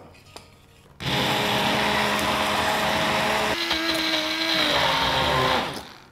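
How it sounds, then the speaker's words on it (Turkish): A blender whirs loudly and steadily for about five seconds while blending oat pudding with dates, its pitch dipping slightly midway, after a quiet start and before it cuts off. "Sonrasında bunu blenderdan geçireceğim."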